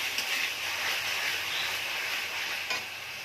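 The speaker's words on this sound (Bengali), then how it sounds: "দিয়ে মশলাটাকে ভালো করে কষে নেব।" A spice masala with Kashmiri chili and salt sautéing in a pan, giving a soft continuous sizzle with light stirring and one brief scrape near the end, fairly quiet and without speech.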